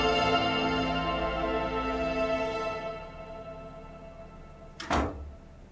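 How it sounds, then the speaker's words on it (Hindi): A door is shut in a domestic drama scene: a single dull thud lands near the end, after lingering music has faded into quiet. "दरवाजा बंद कर देना।"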